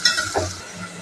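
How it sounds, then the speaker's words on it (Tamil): Chicken pieces frying in hot oil with sliced onion and cinnamon in a kadai, a short burst of sizzling and stirring with a scrape of the spoon, fairly close and steady over about a second. "தேவையான அளவு சிக்கன் சேர்த்துக்கோங்க."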